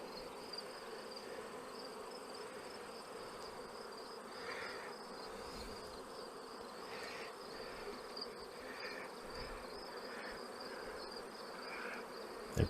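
Honeybees working a resource nuc hive make a faint, steady buzzing drone with a few brief louder passes, heard alone without talk.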